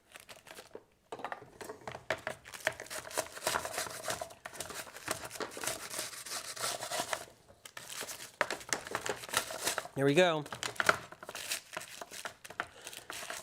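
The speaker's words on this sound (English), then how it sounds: "Put them on the parchment paper." Sheets of parchment paper crinkle and rustle in short, uneven bursts while kiwi slices are being laid out in a kitchen, with a sharper crumpling spell near the end and a brief spoken remark.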